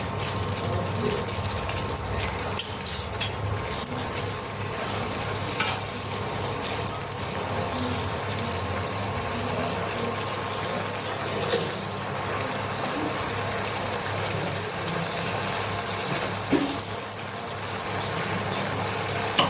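A mushroom and potato curry sautéing in a pan, a steady loud sizzle and bubbling hiss that continues without a break, with faint stirring scrapes now and then.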